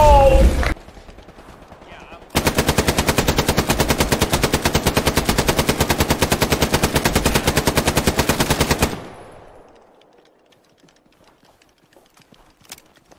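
Sustained automatic gunfire from a friendly soldier in the World War II shooter Hell Let Loose, a loud, rapid unbroken burst lasting several seconds after a short shot, then fading into quiet with scattered faint clicks.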